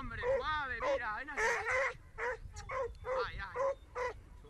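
A hunting dog on a wild boar trail barks and yips in excited, restless bursts, heard over a voice talking throughout.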